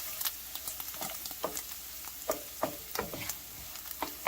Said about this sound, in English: we're just sprinkling it over the sausage and we're going to stir it